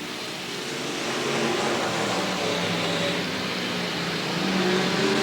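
Stock cars race around the Willamette Speedway oval in 1989, a dense, steady roar of several engines held at speed with rising swells as the pack passes close by, heard alone without talk.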